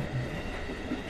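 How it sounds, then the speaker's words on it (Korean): Steady rumble of a subway train in a Minecraft family roleplay, a continuous low rolling noise with no voices. "아휴, 지하철이 집 앞에 있으니까 좋긴 좋네."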